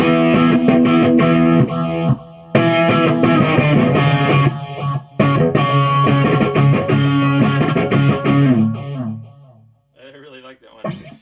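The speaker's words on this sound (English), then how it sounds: "Let's go overdrive. You can hear like a phaser tail." A distorted electric guitar through an Orange CR120 amp on overdrive plays chords and notes with a swirling phaser sweep, ending in a short fading, warbling phaser tail.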